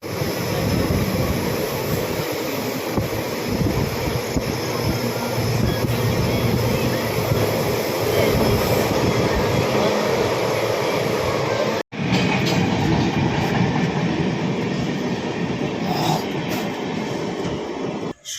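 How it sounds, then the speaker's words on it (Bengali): Vibhuti Express passenger train running on the line after departing Asansol, a loud continuous rumble of wheels and carriage with steady rattling throughout, a brief dropout near the middle and no talking. "এই মুহূর্তে আমাদের ট্রেন ছাড়লো আসানসোল স্টেশনের 4 নম্বর প্ল্যাটফর্ম থেকে একদম অন টাইমে"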